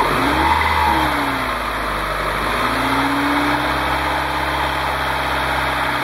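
A car engine revved to about 2,000 RPM during a test, a loud steady drone with rising and falling pitch sweeps that holds throughout at close range.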